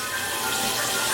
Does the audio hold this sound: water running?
yes